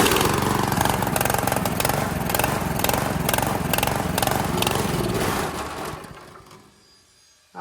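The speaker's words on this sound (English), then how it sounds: "I'm going to run it without the air filter, see if it sounds different" A Honda GX160 engine on a Workman multimixer runs with its air filter removed, a loud, steady, buzzing chug that holds for several seconds, then fades and dies away near the end.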